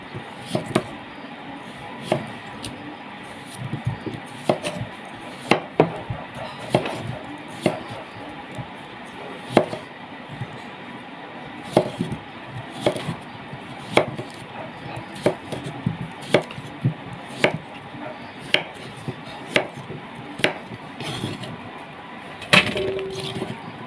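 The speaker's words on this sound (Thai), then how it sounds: "หัวใช้เท้า หั่นแนวนี่" Daikon radish is sliced for Thai chap chai vegetable soup, a knife striking a cutting board in close, sharp, irregular chops spread steadily across the stretch, with no talk over them.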